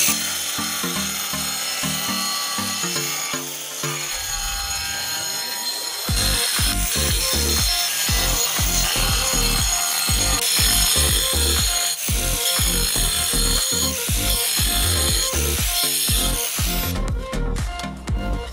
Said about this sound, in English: So we're gonna use this angle grinder to make the cut.